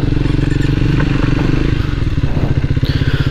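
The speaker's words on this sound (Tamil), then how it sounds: "இந்த எக்ஸாஸ்ட் நோட் இருக்கு இல்லைங்களா, ஸோ ரொம்பவே வந்து ஒரு தம்பியான ஒரு எக்ஸாஸ்ட் நோட்டாக வந்து இருக்குது" A Triumph Speed 400 motorcycle exhaust thumps steadily up close, a loud, continuous deep rumble at idle or low revs with no pauses.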